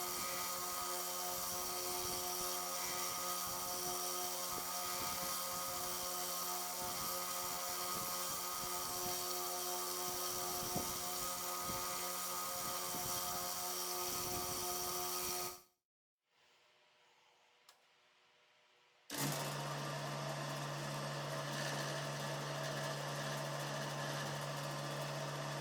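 A polishing machine works the rear bolster and back spring of a Case Copperhead 6249 pocketknife, giving a loud, steady motor drone that cuts out briefly near the end and then starts up again with a lower hum.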